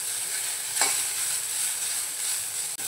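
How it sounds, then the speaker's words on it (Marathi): Coconut pieces frying in a pan until browned, a continuous hissing sizzle with a single stir scrape, close and steady, no voices. "2-3 मिनिटं आपल्याला परतवून घ्यायचं आहे, खोबरं लालसर होईपर्यंत।"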